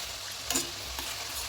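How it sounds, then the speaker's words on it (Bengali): Nimki fry in hot oil over a low-to-medium flame while being stirred, a steady soft sizzle with a couple of brief clinks of the utensil. "তিন থেকে চার মিনিট ভালোভাবে নাড়াচাড়া করে ভেজে তুলে নিতে হবে"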